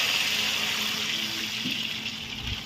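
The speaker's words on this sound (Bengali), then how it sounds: "ঝোল করে নেওয়ার জন্য পরিমাণ মতো জল দিয়ে দিচ্ছি" Water pours steadily into fried masala in a pan for a Bengali fish curry gravy, giving a continuous close hiss and gush that runs unbroken with no talk.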